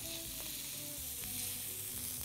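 Chicken skewers (brochetas de pollo) sizzling on a cooking surface, a faint steady crackle with soft scraping touches and no talking.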